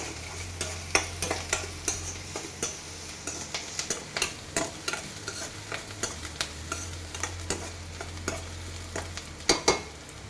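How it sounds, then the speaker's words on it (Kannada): Green chillies frying in oil for paneer pepper dry, a low steady sizzle under frequent sharp spatula taps and stirs against the pan, close up and with no talking. "ಇವಾಗ ಹಸಿ ಮೆಣಸಿನ್ಕಾಯನ್ನ ಹಾಕಿ ಅದನ್ನು ಕೂಡ ಒಂದು ಸ್ವಲ್ಪ ಆಯಿಲಲ್ಲಿ ಫ್ರೈ ಆಗಿ"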